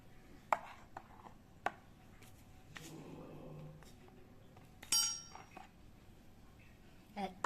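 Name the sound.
mixing cake batter liquid with nutmeg powder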